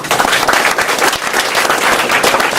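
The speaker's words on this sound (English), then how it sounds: "We don't need to clap with the hands." A school audience claps hands after a talk, with dense, steady applause filling the whole stretch and no voices over it.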